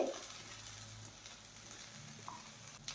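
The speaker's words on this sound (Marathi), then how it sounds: "हे वाटणही आपल्याला छान तेलामध्ये छान असं तेल सुटेपर्यंत परतून घ्यायचं आहे।" Masala paste frying in oil in a pan for a spicy brinjal (vangyachi bhaji) curry, a soft steady sizzle and crackle, faint and close, with a brief louder stir near the start.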